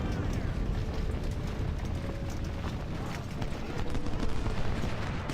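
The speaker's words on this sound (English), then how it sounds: "We're going to order all of the artillery to begin firing." Civil War artillery batteries at Gettysburg fire in Ultimate General: Civil War, a dense, continuous rumble of cannon blasts and crackling gunfire in a steady barrage with no voices.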